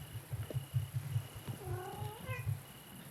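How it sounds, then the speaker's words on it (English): A cat on a sailing boat meows with a rising, drawn-out call near the middle, over a steady low purr that pulses rhythmically throughout, close and fairly quiet. "Cat's come to say hello."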